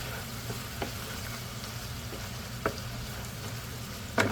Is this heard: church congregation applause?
no